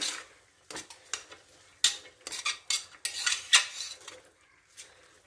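Egg curry stirred in a pot after garam masala goes in, a spoon scraping and clinking against the metal in irregular bursts of close, bright knocks and scrapes, with no talking.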